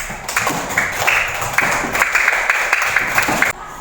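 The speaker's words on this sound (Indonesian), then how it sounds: "Tepuk tangan lagi untuk Tasbih" A classroom audience claps for a student named Tasbih after her Quran recitation, a steady patter of hand claps lasting a few seconds before stopping abruptly.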